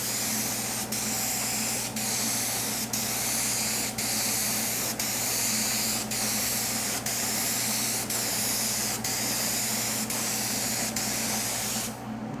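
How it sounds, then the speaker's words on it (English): A spray gun lays a coat of candy paint across a panel with a continuous, close, even hiss, marked by faint regular clicks and ending abruptly. "So we're gonna end up shooting candy on this whole panel"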